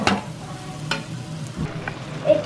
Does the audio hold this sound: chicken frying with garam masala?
yes